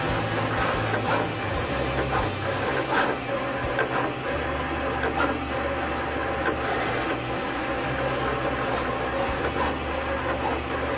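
A Roland CAMM-1 Servo GX-24 vinyl cutter works through a sheet of vinyl, giving a steady, close mechanical whir with shifting motor tones and faint clicks throughout, with no voices.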